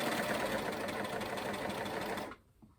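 A sewing machine runs in a steady, close whir as it stitches slowly over a seam of a maxi dress being remade into a skirt, then stops abruptly near the end.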